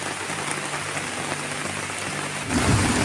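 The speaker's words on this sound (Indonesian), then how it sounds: "Hujannya sangat lebat sekali" Heavy rain pours down steadily at a forest campsite under a shelter, a dense close hiss of drops on surfaces, with a low rumble of thunder swelling near the end.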